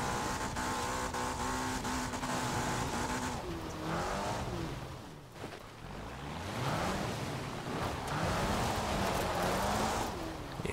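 An all-wheel-drive car in Forza Horizon 4 drives steadily with a continuous engine drone and rising, falling revs, loud and close, with no talking over it.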